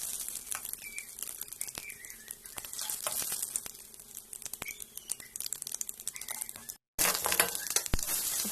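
Curry leaves dropped into hot oil with mustard seeds, chana dal and cumin, giving a steady faint crackling sizzle with scattered pops and a brief cut near the end.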